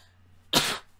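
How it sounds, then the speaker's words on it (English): A single close, loud sneeze-like burst lasting about a quarter second, breaking a quiet background with a low steady hum. "Hang on, I might sneeze."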